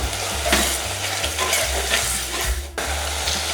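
Tomatoes sautéing in a pan for Mathi fish kuzhambu, a steady close sizzle and crackle with occasional stirring scrapes over a continuous low hum.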